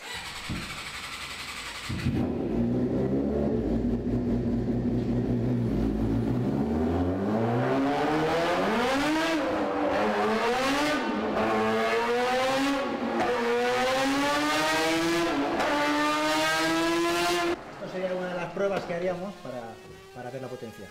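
A car engine on a power test starts with a rough idle, then revs in a long, loud, rising sweep, climbing steadily in pitch with brief dips before dropping back off near the end.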